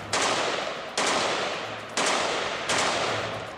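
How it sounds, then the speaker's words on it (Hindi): Belgian-made F2000 fully automatic assault rifle, rated at 850 rounds per minute, firing four loud sustained bursts of about one second each, with abrupt restarts and no voices. "ये बेल्जियम में बनी फुली ऑटोमेटिक असॉल्ट गन है।"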